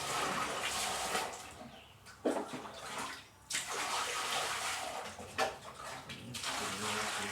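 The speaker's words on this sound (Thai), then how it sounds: "เอาน้ำลาดไปก่อนครับ น้ำลาดใส่นี้ก่อนนะครับ" Water is poured and splashed over a school bathroom floor for cleaning, with several loud gushing pours broken by short pauses.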